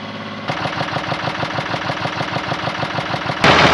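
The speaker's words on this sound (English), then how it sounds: "The tractor in front and the truck in the middle, and then pulling backwards this time" A tractor and truck pulling together, a heavy engine chugging with a steady, rapid pulsing rhythm close by, then a louder roar and hiss surging in at the end.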